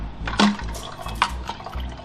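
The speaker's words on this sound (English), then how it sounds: "shake the water out" Water is shaken from the wet filter of a Tineco iFloor One S3 cordless hard floor cleaner, giving a few close splashing, dripping bursts, with sharper spatters near the start and middle.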